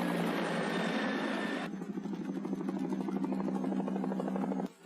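A police helicopter carrying a SWAT team flies overhead in a prison-break film scene, its rotor chop a loud continuous throb that shifts partway through, then cuts off abruptly near the end.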